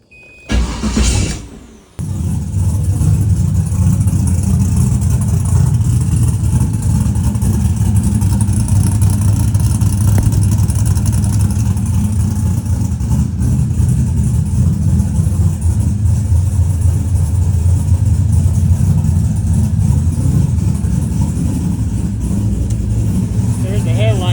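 A project car, a 1993 to 1997 model, cranks briefly and fires up, then settles into a loud, steady rumbling run that continues close by for over twenty seconds.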